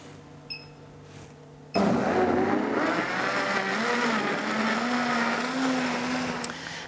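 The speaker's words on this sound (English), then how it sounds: "Then pop your blender on high for 1 minute." After a quiet start, a blender suddenly roars to life and runs loud and steady on high, its pitch wavering slightly.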